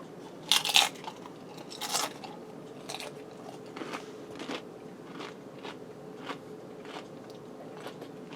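Tortilla chips loaded with taco-seasoned ground beef, rice and tomato crunch under close bites, two loud crisp crunches up front followed by a run of softer, steady chewing crackles, with no talking.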